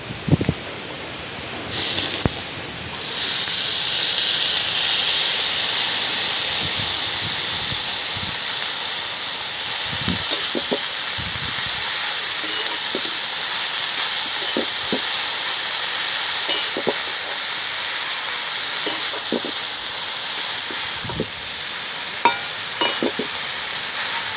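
Foraged field greens hit hot oil in a pan and sizzle loudly with a steady hiss, with occasional scrapes and taps of a spatula stirring them.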